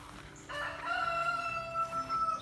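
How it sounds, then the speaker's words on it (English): A rooster crows once, fairly near, with a drawn-out call in the yard of a hostel with a chicken coop along the Appalachian Trail, with quiet outdoor background. "You can hear the chickens probably in the background."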